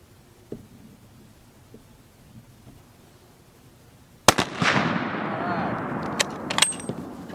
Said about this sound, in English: All 5 rounds went down range.